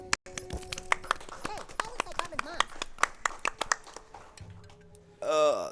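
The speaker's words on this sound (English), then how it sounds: "A round of applause for Firepaw." An audience claps at a live speedrun event, ESA Summer 2018, for a run of South Park: The Stick of Truth. Scattered, crisp claps play under talking and game sounds, ending in a louder burst.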